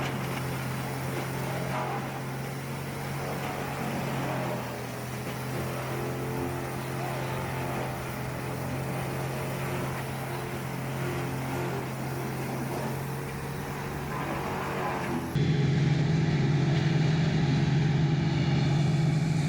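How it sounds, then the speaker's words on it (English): DZH6000 industrial tree grinder with a diesel engine running, a steady droning engine hum with a strong low tone, continuous and fairly loud, shifting abruptly to a heavier pitch near the end. "The DZH6000 machine operates as a high-performance industrial grinder designed for heavy-duty material reduction."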